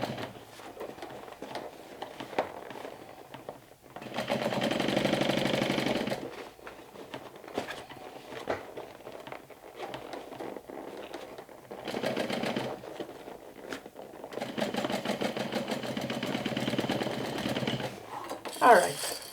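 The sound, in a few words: sewing machine stitching a backpack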